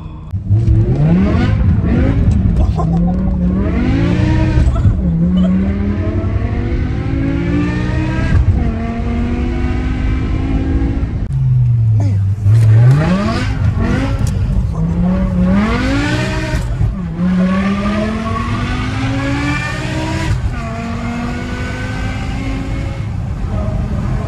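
A BMW M5 V10 fitted with a full straight-pipe exhaust revs hard while drifting, its loud engine note rising and falling through repeated climbs, drops and gear changes, with tire noise underneath, close and continuous.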